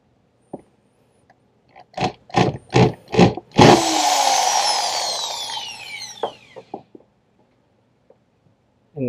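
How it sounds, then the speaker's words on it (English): A 3/8 inch bit is driven through the plastic hull of a Jackson Cuda HD fishing kayak: four short, loud drill bursts in a row, then one sustained drilling run lasting a few seconds that bites and winds down, ending in a few small clicks and taps. "And so you'll need a 3/8 inch drill bit. And let's go ahead and drill our hole here."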